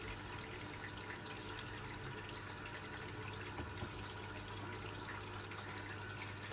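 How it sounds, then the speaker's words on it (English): A Hoover Link Whites 90 washing machine filling with water at low pressure, a faint, steady trickling hiss of water running into the drum with a low hum underneath. "Let it fill up with a wee bit of water first before I stick a washing powder in"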